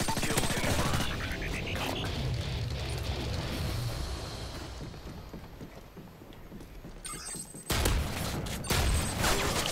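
Rapid bursts of automatic gunfire rattle through a round of the video game Modern Warfare 3, with a fast volley at the start, a quieter stretch of sustained game noise, then another sharp burst near the end.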